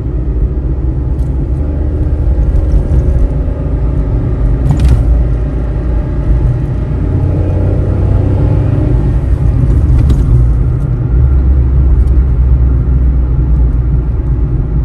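Gasoline car driven on the road, with a steady low engine and road rumble from inside the cabin, swelling slightly midway and holding constant without speech.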